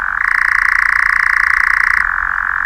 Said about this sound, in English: the sound of the Eurasian nightjar